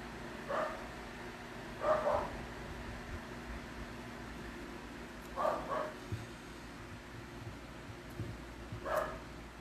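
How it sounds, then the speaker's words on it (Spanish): Dogs barking somewhere in the distance, four short separate bursts spaced a few seconds apart over a steady low hum, faint and with no speech. "Ay, esos perros."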